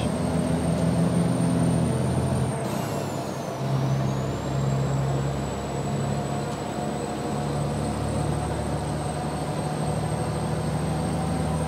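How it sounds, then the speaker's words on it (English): A steady Volvo 660 truck engine in the American Truck Simulator video game drones with a high turbo whine that dips and shifts during a gear change, a continuous mechanical hum with no talking. "kind of hear that turbo though a little bit when it's changing gears."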